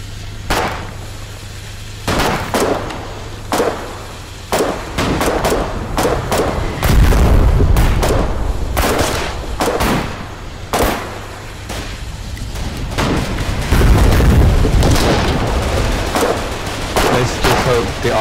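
Repeated gunfire and heavy explosions in the Foxhole war game, sharp cracks scattered irregularly over a rumbling background, some shots near and loud, others more distant booms.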